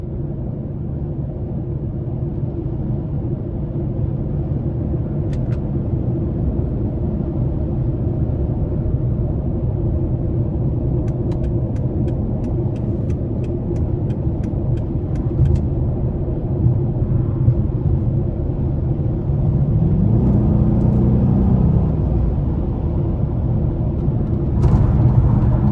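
A 2009 Dodge Challenger SRT-8 with its 6.1 liter V8 cruises on the interstate with a steady low engine and road rumble that swells slightly near the end, with no talking.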